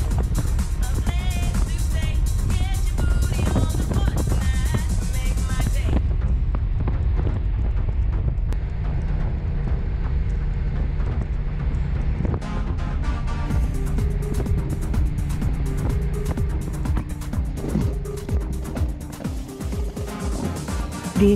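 Moto Guzzi motorcycles riding a mountain road toward the Hahntennjoch pass in Tyrol, with a steady, loud engine drone and wind rumble throughout and a brief quieter stretch midway.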